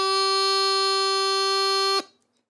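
Bagpipe chanter playing high G, reached from F by lifting the index finger, one sustained, piercing reedy note held evenly for about two seconds, then stopping sharply into silence.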